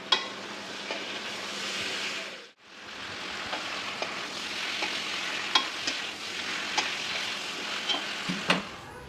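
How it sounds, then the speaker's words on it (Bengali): Capsicum, potatoes and chicken sizzle in a hot pan while a utensil scrapes and clicks against it, stirring in irregular bursts; the noise briefly drops away partway through. "ক্যাপসিকামটা দিয়ে দিলাম দিয়ে এবার নাড়িয়ে চাড়িয়ে নিলাম ভালোভাবে"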